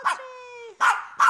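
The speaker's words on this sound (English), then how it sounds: "You bark at mommy?" A small Maltese dog gives sharp, close barks, three quick yaps with a whining tone in between, with no talk.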